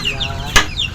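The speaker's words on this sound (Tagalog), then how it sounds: "saba kayo na piyak-piyak ng mga manok" Backyard coop chickens cluck and chatter close by, with a few short calls and a brief flutter of wings in the middle.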